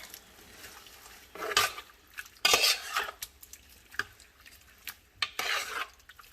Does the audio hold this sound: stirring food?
yes